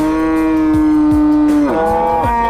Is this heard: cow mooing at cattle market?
yes